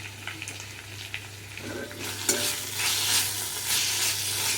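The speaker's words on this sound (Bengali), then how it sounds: "এখন নাড়বো একটু।" Chicken frying in a pan with bay leaf and cinnamon, stirred with scraping, clattering strokes that build into a steady loud sizzle over a low constant hum, with no talking.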